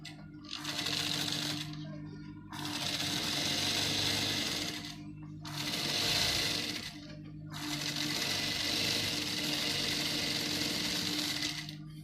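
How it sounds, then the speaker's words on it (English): A sewing machine topstitches the facing inside a basque hipline gown, running in four steady, buzzing bursts separated by brief pauses, fairly quiet and close. "And you top stitch on the facing inside."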